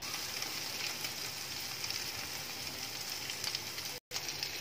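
Bread soaked in oil frying in a hot pan, a steady soft sizzle and crackle held at a faint level throughout, with a brief dropout near the end and no talk.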